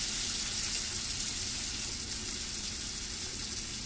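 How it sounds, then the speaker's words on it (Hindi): Falafel balls frying in hot oil, a steady broadband sizzle and bubbling that runs evenly and fairly loud for the whole stretch, with no voices over it. "तेल अच्छा गर्म हो गया, बस हम एक एक करके इसको इसके अंदर डालेंगे।"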